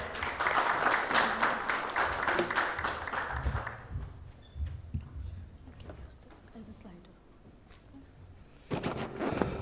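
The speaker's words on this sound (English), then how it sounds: "please give him a big round of applause" An audience at an Islamic fintech forum applauds loudly for about four seconds, the clapping then fading into scattered claps and a quiet room before a brief burst returns near the end.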